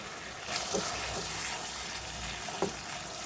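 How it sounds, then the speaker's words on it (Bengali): Spice masala with tomato and yogurt for prawn malai curry fries in a pan with a steady, close sizzle and occasional soft stirring scrapes. "মশলাটা আমি এভাবে কষাতে থাকবো।"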